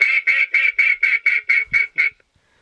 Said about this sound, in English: And it also has this duck call feature.